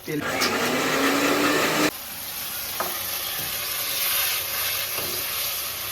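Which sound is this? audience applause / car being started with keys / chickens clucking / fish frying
fish frying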